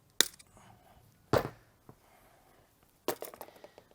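Thick 6mm bonsai wire is cut with a tool while styling a juniper, giving a few sharp, close snaps spaced over several seconds, with faint handling noise between them.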